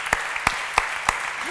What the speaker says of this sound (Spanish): Sí, no, aplaudo.